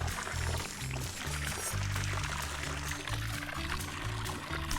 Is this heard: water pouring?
yes